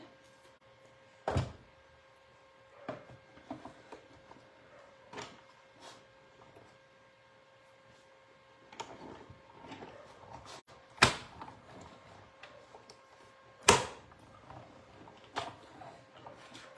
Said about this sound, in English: We're going to die cut that. So let's bring back in the machine.